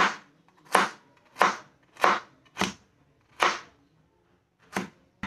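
Carrots chopped with a knife on a board, seven crisp, evenly spaced cuts close up with a short pause before the last ones, quiet between strokes, no voices.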